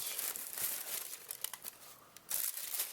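Paper stuffing crinkles and rustles as a 2014 Reebok D-Time retro sneaker is pulled from its shoebox, a close run of crisp, uneven crackles with a brief lull before a final burst.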